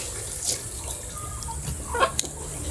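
Chickens on a ginger farm cluck in short, scattered bursts, fairly faint and close over a running-water-like background hiss.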